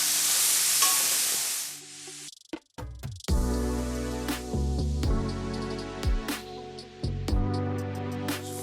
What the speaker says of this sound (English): we're gonna saute these babies for about 8 to 10 minutes until they soften